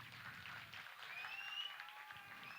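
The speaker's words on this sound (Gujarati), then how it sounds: "તાળીઓ થોડી હજુ પડવી જોઈએ" Faint, thin applause from an audience at a children's talent show stage event, brief and distant beneath a whistling tone and background noise.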